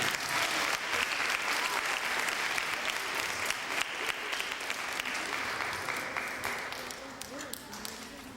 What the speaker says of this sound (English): Let's give Mrs. Naida Rogers a big round of applause